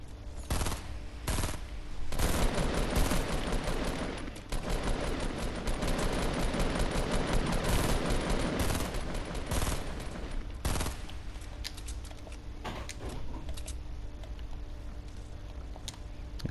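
Crossbow shots aimed at players during a Fortnite match, heard as dense, loud volleys of sharp reports in rapid bursts that keep going almost without pause.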